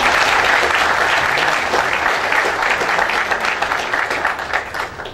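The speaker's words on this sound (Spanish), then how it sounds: "Y dale un aplauso a nuestra reina." Sustained audience applause at a product launch event, a dense steady wash of many hands clapping at even loudness throughout, with no clear speech over it.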